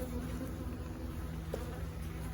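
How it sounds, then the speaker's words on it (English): Honey bees swarm and buzz in an open brood box of a full single-chamber hive in late October, a dense, steady hum close by that carries on without a break. "there's a lot of bees"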